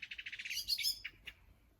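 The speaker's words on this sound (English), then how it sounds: "a female blackbird." Female blackbird calling: a quick series of repeated sharp chirps followed by a few louder, higher calls and two isolated notes, close and clear against near silence.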